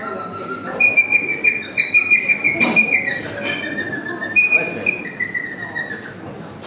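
A traditional Romanian whistle played with breath imitates birdsong, giving high, thin warbling notes and sustained tones over a busy murmur of voices and room noise.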